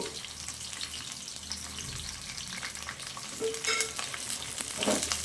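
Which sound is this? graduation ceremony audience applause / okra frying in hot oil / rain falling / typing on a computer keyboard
okra frying in hot oil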